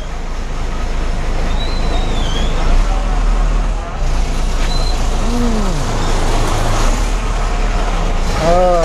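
A Mangalagiri bus travelling by road gives a loud, steady engine and road rumble with rattling from inside the cabin, as passengers' voices and chatter carry over it throughout.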